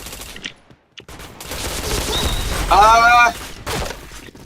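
Rapid automatic gunfire and impacts in the shooter game Point Blank, loud bursts mixed with game effects, with a voice speaking briefly over them.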